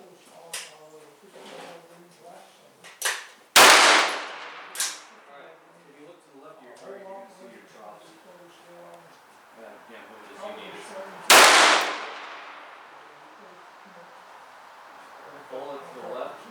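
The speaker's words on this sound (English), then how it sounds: "Okay, second round of 5 shots." Two sharp, loud pistol shots from a CZ-75 at a shooting range, spaced several seconds apart, with people talking in between.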